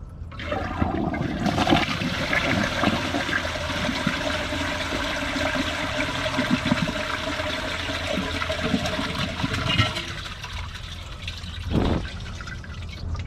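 A toilet flushes thick tissue paper in one long, loud, steady rush of water, then a gurgle near the end.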